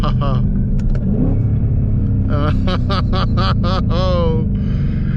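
A 2024 Ford Mustang GT with an MT82 manual gearbox pulls hard after a shift into third, its loud, steady engine rumble rising and filling the whole stretch while people talk over it.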